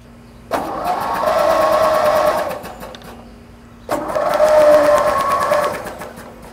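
A small lawn mower engine is cranked twice with its spark plugs out, each burst a whirring, rattling turnover lasting about two seconds, close and loud with no talking.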